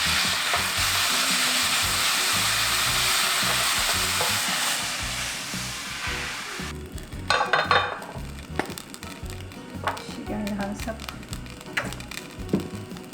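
Glass noodles stir-frying in a pan: a loud, steady sizzle for about seven seconds, then scattered scraping and clattering stir strokes as the noodles are tossed, with the sizzle continuing quieter underneath.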